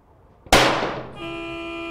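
A single sharp pistol shot cracks out on an outdoor bullseye range, loud and close, then decays over about a second into a steady tonal ringing hum.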